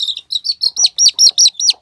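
Young chicks on a farm kept with hens and a Malinois dog peep in a quick series of about nine loud, close, high chirps at a steady rhythm, with no talk.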